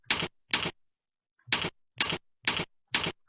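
A kids' computer typing game plays a typewriter-like typing effect: six crisp, isolated clacks, two quick ones, then a pause, then four evenly spaced, each standing alone against silence.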